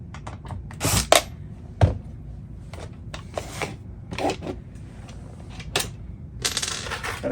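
A screw is worked loose from a wooden pegboard rack by hand, giving scattered sharp clicks, taps and scrapes at uneven intervals, close up and fairly loud against a quiet background, with no voices.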